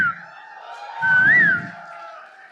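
A woman imitates a koel's call with her voice, giving a rising whistled note that swoops up and falls back, fairly close and alone over a quiet background.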